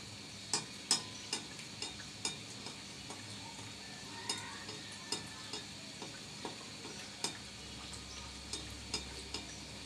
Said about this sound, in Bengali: একটু আমি দুই সাইডে একটু লালচে করে ভেজে নিলাম